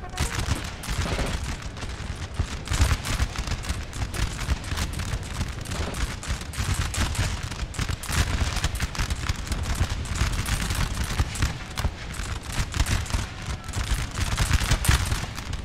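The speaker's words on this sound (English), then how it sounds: "A massive crossfire." Massed musket volleys crackle without pause through a Napoleon Total War battle, a dense loud fusillade of overlapping gunshots from many lines of infantry lasting the whole stretch, with faint talk beneath.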